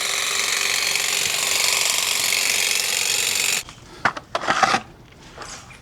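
A cordless electric 2-in-1 hedge trimmer and grass shear cuts grass with a steady, loud, buzzy whir up close. It then cuts out, followed by a few short rustling snips and handling sounds.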